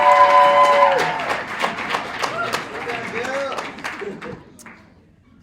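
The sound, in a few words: audience applause for a speaker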